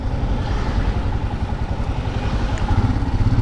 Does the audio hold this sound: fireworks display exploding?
no